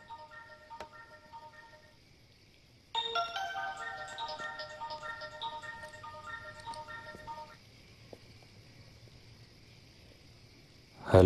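A mobile phone ringtone plays a bright, repeating electronic melody for several seconds, fairly clear against a quiet indoor background, then stops and leaves faint room noise behind.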